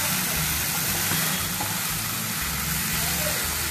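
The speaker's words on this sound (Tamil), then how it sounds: "ஜஸ்ட் ஒரு 1 மினிட் இப்படி வதக்கிட்டு எடுத்து அந்த ரைஸ்ல போட்டுடணும்" Green mango sautéing in a pan gives a steady, dense sizzle with a low rumbling undertone, continuous and close, with no one talking.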